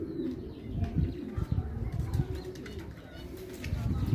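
Small birds call and coo repeatedly close by, soft low notes mixed with occasional chirps and faint wing rustling.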